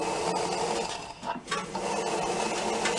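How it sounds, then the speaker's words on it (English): Compressed air from an air gun blows steadily through the nearly empty fuel tank of a Craftsman riding mower, a continuous close hissing rush that dips briefly midway before resuming at full force. "I'm going to put some pressure into the tank and kind of force it through."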